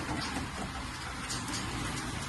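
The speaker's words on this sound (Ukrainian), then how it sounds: "нас напустився дощ." Rain falls outdoors on a small farm with rabbits and pheasants, a steady, close hiss of drops that fills the short stretch evenly with no speech.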